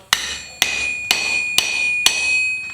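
Five sharp, evenly spaced hammer strikes ring out close by as a forged cold chisel, made from a coil spring, is driven through quarter-inch mild steel on an anvil cutting plate, each blow leaving a bright metallic ring.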